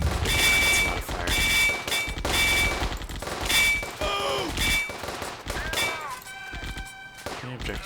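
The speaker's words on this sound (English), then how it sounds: "That is a lot of infantry fire." Dense infantry gunfire in the PC war game Firefight, loud rapid bursts and overlapping volleys of rifle and machine-gun fire in close succession, with some booming impacts and whistling tones as the shooting thins out.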